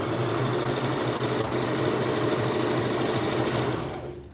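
Serger sewing machine running continuously while stitching a summer top, a steady close mechanical whir with fine rapid stitching rhythm that holds evenly and fades slightly at the end.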